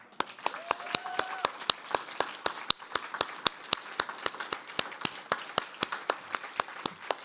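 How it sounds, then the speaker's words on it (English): At a faculty presentation, a small number of people clap for Sarah Schulman in crisp, regular, isolated claps, close and clear, with a brief faint tone early on and no voices. "We need more applause for Sarah Schulman"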